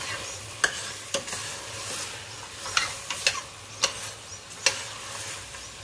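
Mutton masala cooking in a pan after green chillies go in, with a steady background sizzle and regular sharp scrapes and taps of a spoon stirring, fairly close and without talking.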